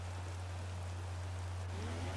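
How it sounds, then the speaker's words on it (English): Heavy pouring rain in a racing video game makes a steady, soft hiss of downpour over a low constant hum, fairly quiet and unbroken, with no voices. "it's pouring with rain. Absolutely pouring."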